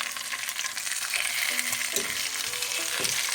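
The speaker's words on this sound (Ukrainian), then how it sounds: "Друга ще трошечки буде смажитися." Pork knuckle sizzles and fries in a pan, a loud, continuous crackle with bursts of spitting fat throughout and no voices.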